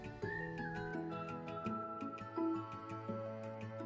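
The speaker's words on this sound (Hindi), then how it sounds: "अब फाइनली इसे हम तेज़ आंच पे प्रेशर कुकर बंद करके और एक सीटी लगा लेंगे" A pressure cooker on high flame, cooking cauliflower sabzi, lets out a sustained whistling tone that rises and then holds over a steady kitchen background, with no talking.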